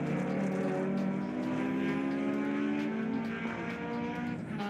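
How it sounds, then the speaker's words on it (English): Chevron and Lola race cars roar around a circuit in a loud, continuous engine drone. Pitches rise and shift as the cars jostle past. "Colin Clay now also beginning to feel the pressure from Ellison as the chevrons mob the Lola."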